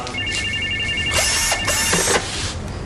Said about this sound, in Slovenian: Zakaj kličeš na stacionarni telefon?